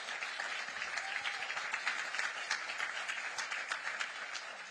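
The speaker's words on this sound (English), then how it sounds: "Give him applause." Sustained applause from a campaign rally audience in Manchester, New Hampshire, a dense steady wash of many hands clapping at moderate distance, with no speech over it.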